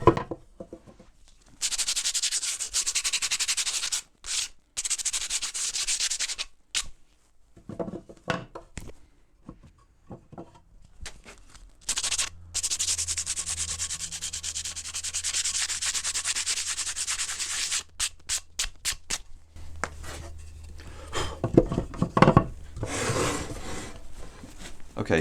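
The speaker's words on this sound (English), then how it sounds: "I'm just going to quickly run a sanding disc over the drill holes to get rid of the burrs that I've made." A sanding disc is run over burred drill holes in a wooden planter bottom, giving long harsh rasping sweeps broken by brief pauses, loud and close, with no talking.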